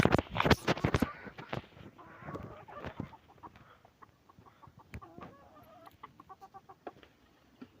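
Chickens being hand-fed cluck in short, irregular bursts nearby, with sharper clucks early on and softer, scattered clucking continuing afterward.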